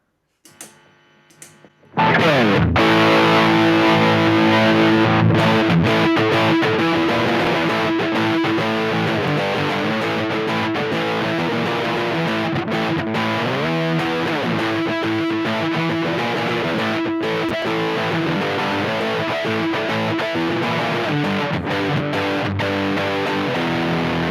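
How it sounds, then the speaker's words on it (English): A PRS electric guitar plays with a distorted, dirty rock tone: a few quiet plucks, then loud sustained crunchy chords and riffs that ring on continuously, with no talking. "Some dirty rock sounds from this? Yeah, why not? Since it's a dirty rock guitar."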